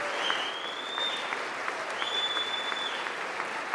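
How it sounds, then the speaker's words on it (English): An audience at the President's State of the Union address applauds in a sustained, even wash of clapping heard at a distance, with a faint voice and a thin electronic tone running over it. "She clapping"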